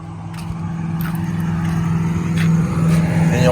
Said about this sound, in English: But you won't know until you start the truck up.